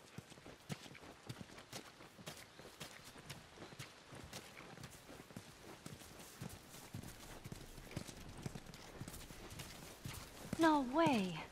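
Horses walk with steady clip-clopping hooves on hard ground at a hydroelectric dam in The Last of Us video game, under spoken dialogue and background sound.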